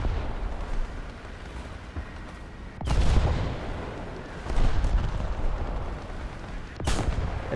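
Heavy artillery fire in the War Thunder video game booms in repeated loud blasts. A sharp crack near three seconds is followed by further thuds and a closing report around seven seconds, all over a constant rumbling battlefield din.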